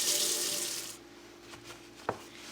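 Water tap running into a sink while rinsing rusty garden tools after a vinegar soak, a loud hiss at first that drops to a gentle trickle, with a brief clank near the end.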